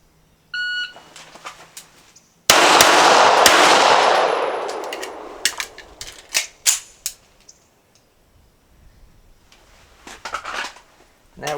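Rifle shots, one in .308, ring out close and very loud with a long rolling echo, then a scatter of sharp cracks and clanks, with a brief electronic beep before the first shot.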